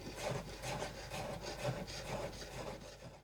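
A knife chops a cucumber on a cutting board in quick, soft, repeated strokes, a faint rhythmic tapping and rasping texture close by with no talk.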